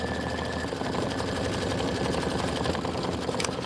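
Embroidery machine stitching tack downs for an autumn leaves and pumpkins design, a fast steady mechanical needle rhythm with motor hum, close and continuous.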